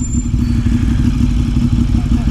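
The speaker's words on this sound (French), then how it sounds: "Faut voir déjà à quoi la moto ressemble en roulant." A CB 750 café racer motorcycle rides along with a steady, loud, deep engine drone and low rumble, held even throughout with no break.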